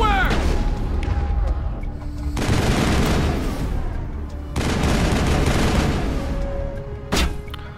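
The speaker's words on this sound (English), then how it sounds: "Of course, a shotgun." Mass Effect combat erupts in loud bursts of shotgun and weapon fire, dense crackling volleys separated by short gaps, with voices calling out amid the shooting.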